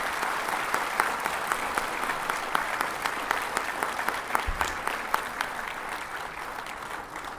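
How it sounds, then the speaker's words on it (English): A warm round of applause fills a Supreme Court courtroom at a judge's farewell function, a dense, steady crowd clapping that holds evenly for several seconds with a few sharper claps standing out. "Please give a warm round of applause."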